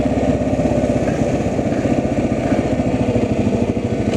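A small gasoline water pump runs steadily at close range on a flooded residential street near a Missouri River levee, giving a continuous throbbing engine drone with no talk over it.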